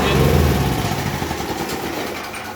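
A petrol generator engine running, a rough buzzing putter that starts loud and slowly fades over a couple of seconds, heard nearby.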